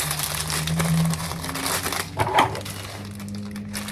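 Plastic parcel bags crinkle and rustle continuously up close as they are handled and opened, with a low steady hum underneath.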